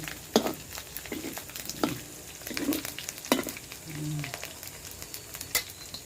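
Onion and garlic sizzle in hot oil for pinakbet, a steady frying hiss broken by repeated clanks and scrapes of a stirring spoon against the pan, with people talking nearby.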